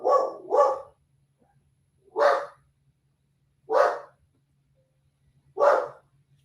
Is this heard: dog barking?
yes